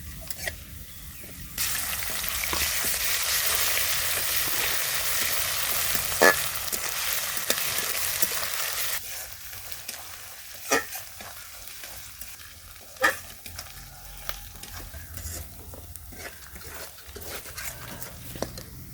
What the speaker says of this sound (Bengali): আমার পেঁয়াজটা লাল হয়ে এসেছে, এবার দিয়ে দিচ্ছি রসুন বাটা।